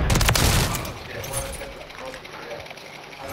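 Gunfire in the Call of Duty video game: a rapid burst of automatic shots at the start, then quieter mechanical clicks and fainter distant shots in the game mix.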